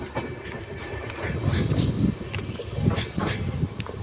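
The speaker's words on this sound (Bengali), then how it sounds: "দেখতে পাচ্ছ বন্ধুরা, একটা না দুটো ট্রেন" A train passes by a railway crossing, a steady low rumble with rhythmic clattering of wheels and wagons rising and falling, moderately loud and close, with wind and faint background noise.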